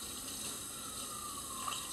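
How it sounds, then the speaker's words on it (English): Water runs steadily from a tap, a constant broadband rush at moderate level with no voices over it. "it's just more water running"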